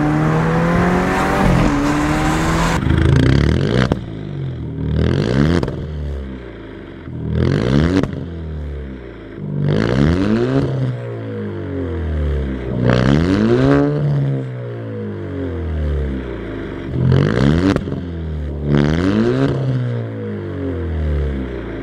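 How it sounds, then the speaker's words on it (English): An Alfa Romeo with a single straight pipe exhaust revs repeatedly, each loud blip rising sharply and falling back to a rough idle, about eight throttle stabs spaced a couple of seconds apart, close and unaccompanied. "You guys have heard the exhaust now."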